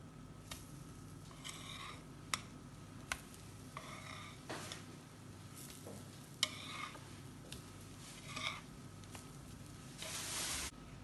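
A pancake frying in a pan after being flipped, a quiet soft sizzle under a faint hum, broken by scattered small clicks and scraping touches of a utensil.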